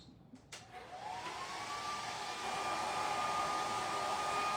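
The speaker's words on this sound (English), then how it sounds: "I'm gonna hit it with a hairdryer." A hair dryer blows steadily to dry paint on a DIY sign, its whine climbing as it spins up and then holding at an even, close roar.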